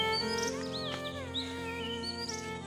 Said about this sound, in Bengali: কি সুন্দর আওয়াজ না পাখির ডাক।